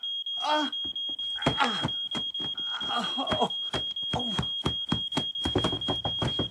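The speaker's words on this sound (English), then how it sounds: "Smoke alarm." A smoke alarm emits a continuous high-pitched tone while people talk excitedly over it, with knocks and clatter in between.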